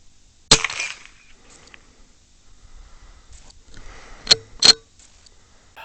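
Rifle shots ring out at night during rabbit control: one sharp, loud crack with a brief tail, then after a quiet pause two more sharp reports in quick succession, with faint rustling between.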